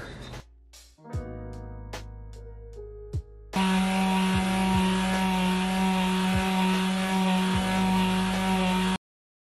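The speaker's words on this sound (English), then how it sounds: "I didn't realise it was going to take this long to sand, even using the electrical sander" An electric sander stripping primer from an Astra GSI car spoiler, starting with short bursts and revs, then running as a steady loud whine for several seconds before stopping abruptly.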